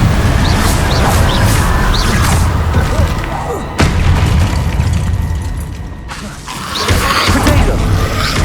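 Incendio fire spell in the game Hogwarts Legacy erupts as a loud, sustained roaring blast with a dense, rumbling body that dips briefly and swells again over the game's busy background sound.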